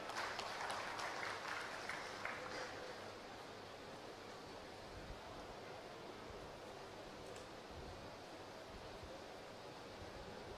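An audience at a cow festival gathering in Jaipur claps to welcome a speaker. The applause is a dense, continuous wash of many hands that starts strong and settles to a steady, slightly softer level.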